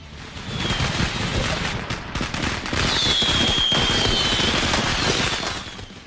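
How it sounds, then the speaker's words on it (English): Fireworks going off inside a bedroom crackle in a dense, rapid volley of sharp pops. Whistling streaks cut through as rockets fly, and the barrage keeps up loud and close for several seconds. "setting off a ton of fireworks indoors"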